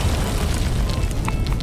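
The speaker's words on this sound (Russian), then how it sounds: "Вот, вот это взрыв, пацаны." A loud, dense explosion in the Garry's Mod video game, a sustained booming roar that fills the whole moment with scattered crackling debris on top and no talking.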